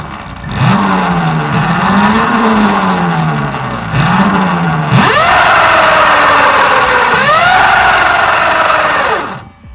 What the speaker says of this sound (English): this thing sounds like a motorcycle. Like, it is really loud.